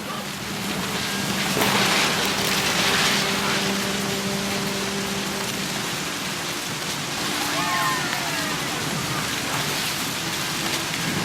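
Video game thunderstorm: heavy rain pours steadily throughout while a low rumble of thunder rolls early on; a faint voice-like murmur sits beneath the downpour.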